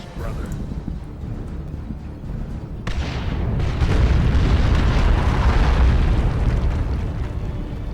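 Artillery bombardment in Warhammer 40K Dawn of War 2: a sharp blast breaks in, then rolling, rumbling explosions build into a loud, sustained roar, with a voice talking underneath.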